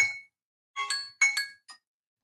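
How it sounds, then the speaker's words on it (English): Alarm signalling that a five-minute limit is up, a few short, bright, glassy chimes in quick irregular succession with silence between, fairly faint and heard alone. "That's my alarm telling me my 5 minutes are up."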